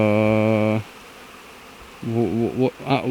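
Carniolan honeybees buzzing around their hives, a close, loud steady drone that breaks off, then returns after a pause as a wavering, fluctuating hum.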